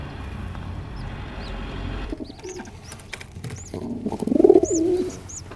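A mother city pigeon arrives at the nest to feed her two-day-old chick. Chirps and faint fluttering give way to a louder burst of low cooing and wing noise near the end, all at close range.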